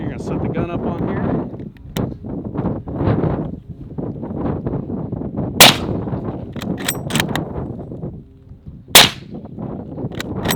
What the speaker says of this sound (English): We're gonna go ahead and shoot them on these off the shooting sticks here.